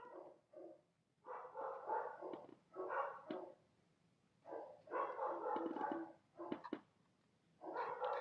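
Several dogs bark and whimper in repeated bursts, moderately close, with quiet gaps between volleys and no talking over them.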